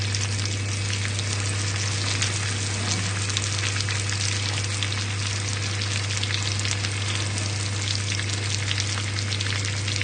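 Butter and sugar bubbling in a pan for a pear tarte tatin, a loud, dense, unbroken sizzle and crackle held steady from start to finish, with a constant low hum beneath and no speech.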